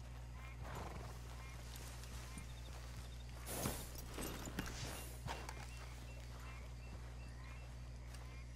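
Horse in the Red Dead Redemption 2 video game, with faint hoof clip-clops and a brief whinny over a steady low game ambience, quiet and at moderate distance.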